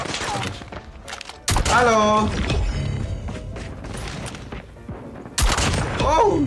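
Shotgun blasts boom out in a mobile shooter game, two heavy bursts a few seconds apart over constant game noise, with players talking throughout.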